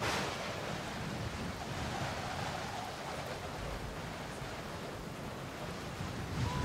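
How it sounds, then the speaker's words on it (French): Strong, violent wind roars as a steady, dense rush of broadband noise, continuous and fairly loud throughout, with no voices over it. "le vent est trop fort"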